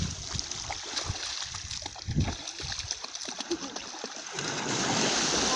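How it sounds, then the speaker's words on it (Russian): Barents Sea water splashes and sloshes close by in irregular bursts, with wash and spray noise rising to a fuller, steadier rush near the end, and no speech. "Баренцево море."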